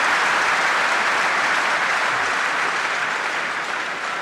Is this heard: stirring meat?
no